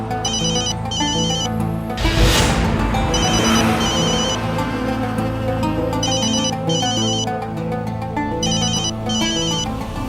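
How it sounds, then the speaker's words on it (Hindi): A phone ringtone repeats in regular bursts of electronic ringing, loud and close, with a brief whooshing sweep partway through and no talking. "पृथ्वी का फोन लग जाए बस"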